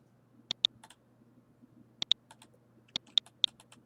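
A command is typed on a computer keyboard in three quick bursts of crisp, close key clicks separated by short pauses, with no talking.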